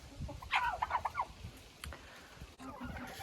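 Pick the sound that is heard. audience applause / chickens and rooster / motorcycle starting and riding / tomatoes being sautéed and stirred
chickens and rooster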